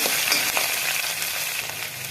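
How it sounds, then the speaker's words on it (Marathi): Turmeric being stirred into hot oil with green chillies and garlic for pithla, a dense steady sizzle close by with light scraping of the spoon. "हळदीला छान असं हलवून घ्यायचं"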